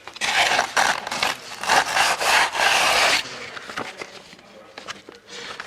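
Sandpaper rubbed by hand over a damp fibreglass boat deck during deck core replacement, loud raspy back-and-forth scrapes in quick bursts for about three seconds, then softer scattered scuffs.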